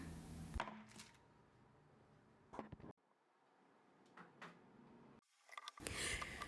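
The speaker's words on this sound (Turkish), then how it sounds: "Yarısı bitter, yarısı sütlü olacak şekilde şöyle minik minik doğruyorum." A knife chops dark and milk chocolate into small pieces on a board, giving a few sparse, quiet knocks separated by near-silence, with louder clatter at the start and end.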